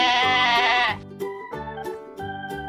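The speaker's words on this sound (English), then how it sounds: "Goat." Goat bleating loudly and close, one long wavering cry followed by a few shorter, choppier bleats.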